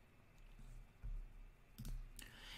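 A few quiet computer mouse clicks on a search button, two or three soft, brief clicks set apart, close but faint over a low background hum.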